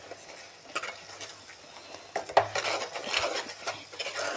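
Spices, turmeric, salt and chilli powder, being stirred into a tamarind fish curry in a pan, with scraping, clinking strokes of a spoon against metal coming in an irregular rhythm, close and moderately loud, and no voices.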